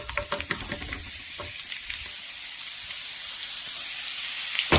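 An amla pickle fries in a pan with a steady, close sizzle and scattered small crackles and clinks, holding an even level throughout.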